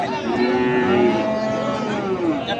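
Cattle mooing loudly and repeatedly at a crowded livestock market in Dinajpur, Bangladesh, long drawn-out lowing calls overlapping against a busy crowded background.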